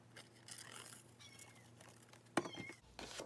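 Patty, a pet cat, gives a few soft meows asking for a snack, near and fairly quiet, with a sharp clatter partway through.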